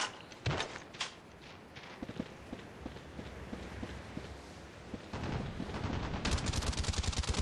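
Rapid bursts of submachine gun fire in the video game Call of Duty Black Ops Declassified, rattling in quick strings over light footsteps, growing denser and louder near the end.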